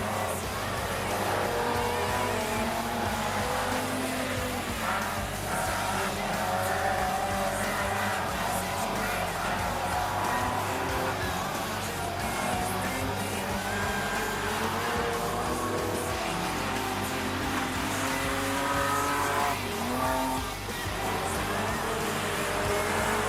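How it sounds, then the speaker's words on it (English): Race cars in a fender-benders event at Rockhampton Speedway roar continuously around the dirt track, a distant, steady engine drone with occasional rising revs throughout. "The car's doing a bit of bouncing around."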